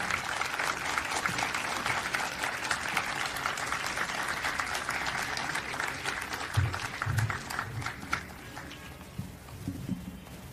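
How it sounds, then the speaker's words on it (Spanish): An audience applauds a singer at a book fair recital, a dense, steady wash of clapping that holds for several seconds before thinning out toward the end. "para que la puedan aplaudir"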